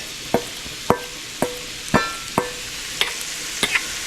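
Chopped onions sauté in a pan for Szechuan chicken fried rice. Sharp metal spatula taps and scrapes land in a quick, fairly regular rhythm over a soft hiss of frying, close and loud.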